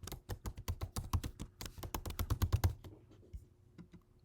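Rapid typing on a computer keyboard, a dense run of close, crisp key taps that keeps up for almost three seconds, then stops, leaving a faint hum.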